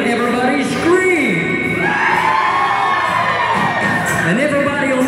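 A theatre audience screaming and cheering in unison, a sustained loud roar of many voices with shrill whoops rising and falling over several seconds.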